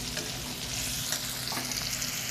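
Gavar (cluster bean) curry sizzles in a pan while being stirred, a steady close frying hiss with soft scraping stir sounds and no voices.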